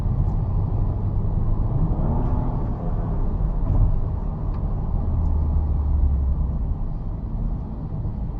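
A 2005 Mercedes-Benz SL 65 AMG with a twin-turbo V12 drives along a residential street, a steady low engine drone and road rumble heard from inside, fairly loud and unbroken, no talk.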